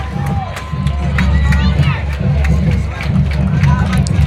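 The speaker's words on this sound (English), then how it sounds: "everybody in the crowd ready for this kickoff" A high school football crowd cheers and shouts before a kickoff, with loud rhythmic crowd noise and yelling voices swelling across the moment.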